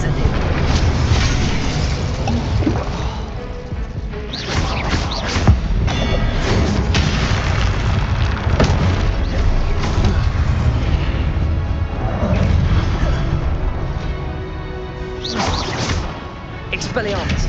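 Incendio fire spells cast in the video game Hogwarts Legacy, a dense, loud barrage of fiery bursts, crashes and booms layered with combat noise, recurring throughout and mixed with spoken spell names and game music.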